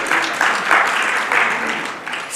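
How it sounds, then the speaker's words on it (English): Audience at a conference giving a round of applause, a loud continuous patter of many hands rising and dipping in waves over a couple of seconds. "Give yourself a round of applause."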